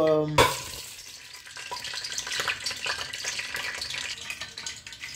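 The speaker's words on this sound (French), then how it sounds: "je laisse cuire le queue de bœuf" Smoked oxtail sizzling and crackling in hot oil in a pot, a steady close frying hiss with popping, following a brief clatter at the start, with no talking.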